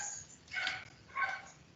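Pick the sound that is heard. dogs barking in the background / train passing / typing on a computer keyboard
dogs barking in the background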